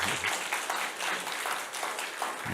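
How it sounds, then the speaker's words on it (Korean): An audience applauds to welcome a lecturer at a church faith academy talk, a warm, steady patter of many hands clapping at moderate volume throughout. "큰 박수로 다시 한번 우리 환영하십시다."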